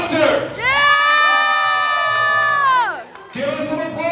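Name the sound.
crowd applause and cheering for a dancer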